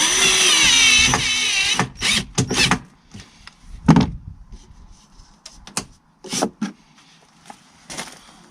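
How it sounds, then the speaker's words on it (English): A power drill whirs steadily to drive screws holding a cover over the metalwork of a Range Rover P38 seat in an Iveco Daily campervan, then gives way to a series of loud knocks and clunks. "I'll screw it in place with 2 screws which will be held into position."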